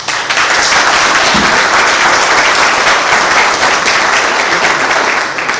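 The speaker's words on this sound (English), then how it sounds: "Can we get a round of applause for our candidates?" A room full of people at a county candidate forum over coffee bursts into sustained, dense applause that holds steady and loud before tapering slightly at the end.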